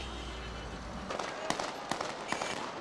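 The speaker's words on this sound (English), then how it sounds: "There was automatic gunfire, but aimed at an Iraqi bank" Sharp cracks of automatic gunfire aimed at a bank in Iraq during the 2003 war ring out at irregular intervals over a constant noisy background, some distance away.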